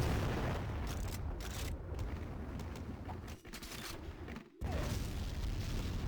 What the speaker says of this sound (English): He gets mortared around a little bit.